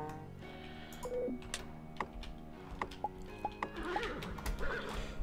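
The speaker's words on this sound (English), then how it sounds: "I'd like to kill this horse thing." A horse-like creature in the video game Roguelands whinnies amid game effects, with a tonal neigh near the start followed by a string of short clicking and ticking hits and a brighter burst near the end.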